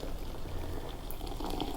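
Hot water is poured over wormwood in a mug for tea, a steady close trickle and gurgle of liquid running throughout at moderate volume.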